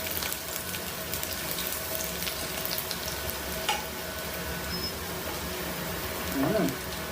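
Garlic sizzling in hot oil in a pan for Filipino adobo, a steady close frying hiss with faint stirring scrapes and brief tap-like clatter near the end.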